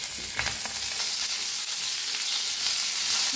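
Green chillies sizzle steadily in hot oil in a pan, frying with a continuous bright crackle and occasional scrapes as they are stirred and roasted, close and fairly loud with no voices.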